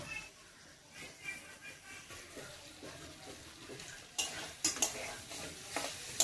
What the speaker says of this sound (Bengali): এই দেখেন কষানো হয়ে আসছে।